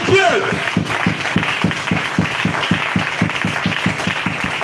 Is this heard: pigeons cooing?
no